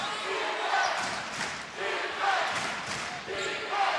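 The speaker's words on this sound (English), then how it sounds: "Both crowds getting loud." Two crowds in a gym roar and cheer loudly during a boys' high school basketball playoff game, swelling in waves with a commentator's voice over them.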